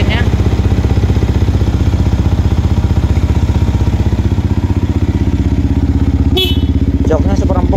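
A motorcycle engine idles loudly and close by with a steady, even low thump throughout, while people talk over it.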